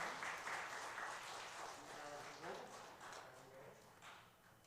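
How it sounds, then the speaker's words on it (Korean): Congregation clapping during a Sunday church service: a fairly faint, sustained patter of many hands with a murmur of voices mixed in and a few brief louder bursts. "큰 박수 해주시기 바랍니다"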